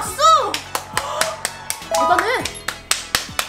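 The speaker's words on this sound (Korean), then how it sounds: "와, 박수!" Hands clap in a quick run of sharp, close claps, mixed with excited children's voices speaking and cheering.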